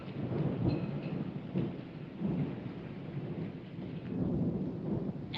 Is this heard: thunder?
yes